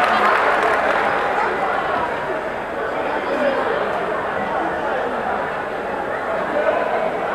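An audience at a ceremony applauds a Senegalese delegation's one-million-CFA-franc donation to the Fondation Grand P, a steady wash of clapping mixed with crowd chatter and voices throughout.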